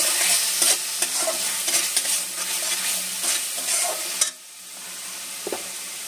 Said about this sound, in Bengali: একটু সামান্য হলুদ গুঁড়ো দিয়ে দিচ্ছি, দিয়ে আবার মশলাটা একটু ভালোভাবে মিশিয়ে নিচ্ছি।